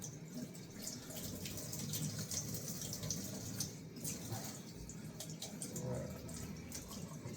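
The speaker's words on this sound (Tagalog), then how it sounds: "hugasan muna siya ng malamig na tubig." Split salmon rinsed under a cold running kitchen tap, water splashing and gurgling steadily and close for several seconds, with faint bits of voice underneath.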